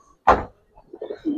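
Giribaz fancy pigeons give a brief, soft cooing burble after a sharp knock, close by and otherwise quiet.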